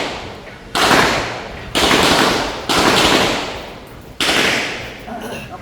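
Four sharp, loud shots from test firing handloaded competition cartridges made with CFE and BA32 powder, spaced about a second apart, each with a short, decaying echo.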